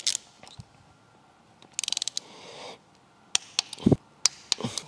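Ratchet clicking in short bursts while tightening ARP cylinder head studs in a spiral pattern on a Renault Mégane 3 RS engine top end, with rapid pawl clicks followed by separate sharp knocks, close and loud.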